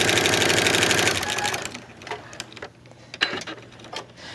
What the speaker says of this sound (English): So that's a straight stitch.